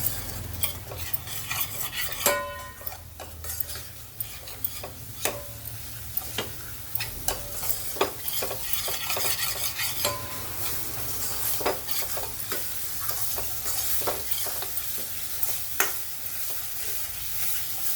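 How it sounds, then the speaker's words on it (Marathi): Spice masala with turmeric sautés in hot oil in a pan for mixed dal, a steady sizzle broken by frequent sharp clinks and scrapes of a spoon stirring against the pan, close up with no talking. "याला पण चांगलं असं परतून घेऊ तेल सुटेपर्यंत आता हे मसाल्याला आपण परतून घेऊ"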